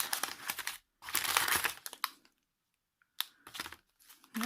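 Parcel packaging being opened: crinkling, rustling wrap in close, loud bursts, with a pause of quiet in the middle before more crinkling resumes.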